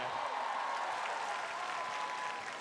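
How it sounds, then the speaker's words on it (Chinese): Audience applause for a singer at a live singing contest show, a faint, even wash of clapping heard from a distance without any talk. "掌声鼓励"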